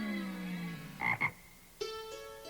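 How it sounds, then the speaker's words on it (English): Frogs croak in short, resonant calls, a couple of quick bursts followed by a sustained tonal croak, fairly close and otherwise quiet. "No, they're frogs, said Buster."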